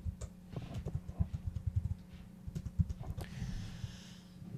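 Keys tapped on a computer keyboard in quick irregular bursts of soft, close clicks, with brief pauses between runs and quiet breathing audible underneath.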